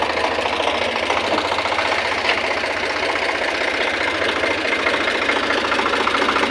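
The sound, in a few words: tractor engine idling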